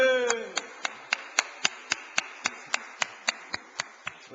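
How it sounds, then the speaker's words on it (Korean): Congregation in a church clapping together in a steady rhythm, about fifteen crisp, evenly spaced claps ringing in the hall, with a voice trailing off at the start. "박수로 영광 올려드리겠습니다"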